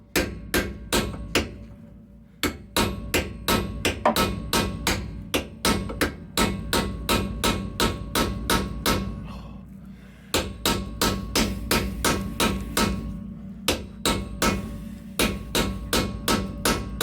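Hammer blows pounding on the third member of a 2003 Nissan Pathfinder R50, a loud close series of sharp metallic strikes in rapid steady rhythm, pausing briefly only a few times, with no talking.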